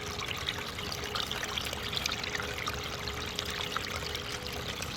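Water washing scooped clay and gravel through a gold prospecting sluice, a steady close rushing and trickling flow with no pauses or voices.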